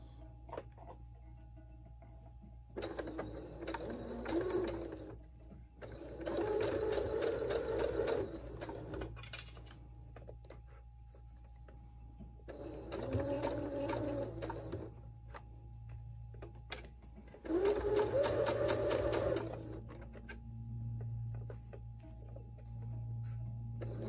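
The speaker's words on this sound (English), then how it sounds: "now I'm going to start sewing with the smaller placket" Stitching on a dress shirt sleeve placket comes from a sewing machine running in four separate bursts, each a few seconds long, with quiet pauses between them against a low steady hum.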